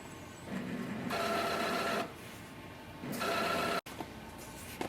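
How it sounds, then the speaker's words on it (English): A Brother MFC-J4535DW inkjet printer runs a printhead cleaning cycle, its motor whirring in two sustained bursts with quieter mechanical hum between them and a sharp click near the end, with no talking. "Again it's going to do the printhead cleaning"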